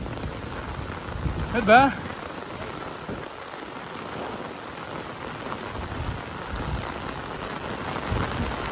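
Heavy rain pours over a mountain village as a dense, steady hiss, with a short voice calling out near the start.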